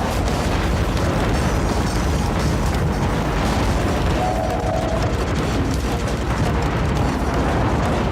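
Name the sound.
cannon fire and explosions in Under Defeat video game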